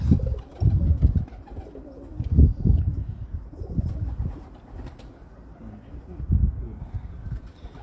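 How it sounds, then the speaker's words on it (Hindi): Dub pigeons on a rooftop coo in low, repeated rolling phrases, close and fairly loud, with short pauses between bursts and a faint mechanical hum behind. "जी डब वाले कबूतर हमारे।"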